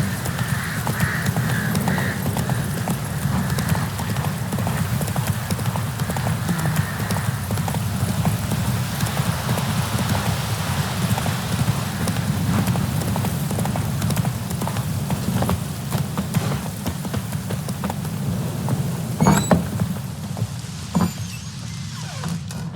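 Roach, Geralt's horse in The Witcher 3, trots along with a steady, close clip-clop of hooves that keeps going throughout, with a few sharper knocks near the end.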